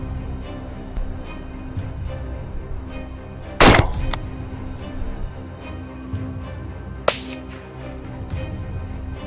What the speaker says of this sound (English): Continuously firing, we took down 5 more wild boars.